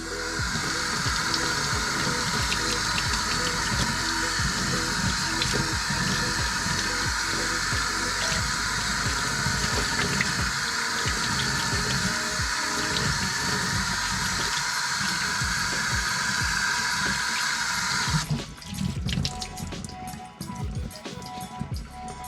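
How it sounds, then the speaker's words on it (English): Cold water runs from a tap in a steady, loud gush while an item is rinsed under it, the flow shifting and thinning briefly near the end. "we're gonna hit it with some cold water to rinse it out."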